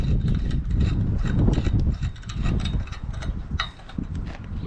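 C-clamp being tightened on bent wire, a dense run of close clicking, ratcheting and creaking metal that keeps going with no voice over it.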